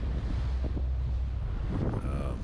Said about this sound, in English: You might hear some wind in the background.